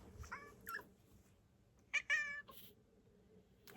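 A cat meowing indoors, a short meow early followed by two louder, drawn-out meows a moment later, close against a quiet background.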